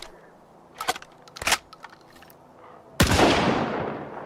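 Gunfire from a spread-shot weapon in STALKER 2: two sharp bursts of shots early on, then a louder, sustained crackling volley of impacts that tails off, heard alone with no talk.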